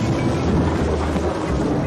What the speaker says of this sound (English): It's a stormy night.